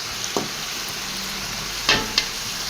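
Ragi upma cooking in a pan, with a steady soft sizzle throughout and a few brief scraping knocks from stirring, close by with no voices.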